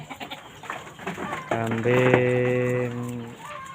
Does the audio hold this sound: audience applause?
no